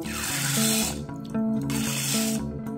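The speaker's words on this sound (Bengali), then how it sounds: "একটা ডেকচিতে জল ঢেলে দিচ্ছি।" Water pours from a tap into a cooking pot (dekchi) in a home kitchen, a loud, close, continuous rushing stream with a ringing tone that rises as the pot fills, briefly interrupted twice.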